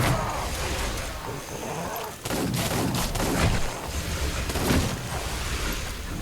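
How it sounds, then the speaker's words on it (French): Simulated gunshots from a VR shooting game on an Oculus Go, fired as repeated loud bursts over a dense, noisy game soundtrack. "donc là j'ai un flingue, et bah, l'idée tout simplement ce sera d'aller dégommer"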